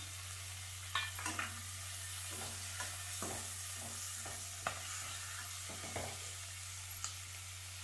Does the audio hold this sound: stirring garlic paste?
yes